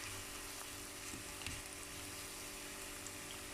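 Spices fry in a hot pot ahead of mutton and cabbage, a faint, steady sizzle with a few small pops and stirring sounds, no voices.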